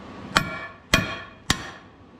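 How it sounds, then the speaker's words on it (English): Three sharp, ringing hammer strikes on metal, evenly spaced about half a second apart, close and clear with no voices. "So they're just set in there. We just take a hammer"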